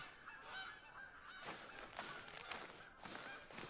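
Geese honk in the hunting video game theHunter: Call of the Wild, several harsh calls overlapping in bursts, fairly faint and distant.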